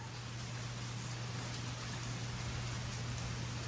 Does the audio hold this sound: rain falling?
yes